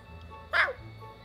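A person imitates a dog's bark with a single short voiced yap in a quiet indoor room, loud and close against a low steady hum.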